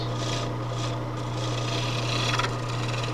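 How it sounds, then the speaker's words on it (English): A wooden baluster being turned down on a lathe to a 7/8 dimension, heard as a steady close rasping, scraping drone with a constant low motor hum beneath, continuous and without talk. "I'm going to cut this down, right down to that 7/8."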